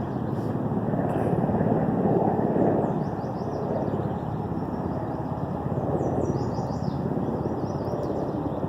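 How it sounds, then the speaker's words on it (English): A helicopter from a nearby airport drones overhead, a steady low rumbling roar that swells slightly then holds, with faint bird chirps high above. "there's a helicopter flying by."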